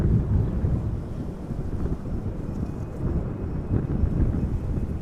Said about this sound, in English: more or less the same as yesterday.